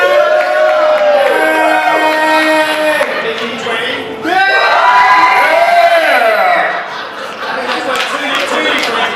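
At a tabletop role-playing game session at a gaming convention, a crowd cheers and shouts loudly across the stretch, with whoops, chatter and laughter swelling in waves and voices mixed throughout.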